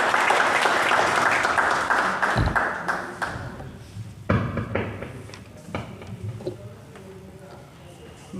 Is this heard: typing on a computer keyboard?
no